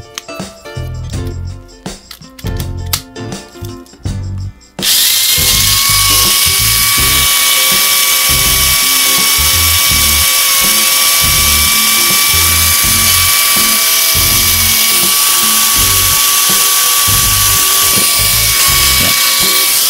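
A Mini 4WD Hyperdash motor, running without grease, spins up to a continuous high-pitched whine that stays loud and steady, after a few seconds of clicking and handling noises.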